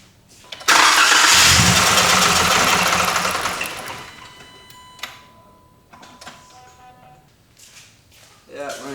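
A car engine cranks and catches loudly, roaring for a few seconds before settling into an uneven, rough idle with irregular ticking and faltering; people talk over it.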